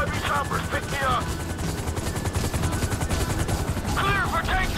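Video game combat in Grand Theft Auto 5: helicopter rotors drone steadily beneath bursts of gunfire while voices shout over the noise.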